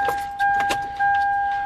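Chimes sound as a car's electrics are switched on: two sustained electronic warning tones that start and restart, with light clicks and rattles over them.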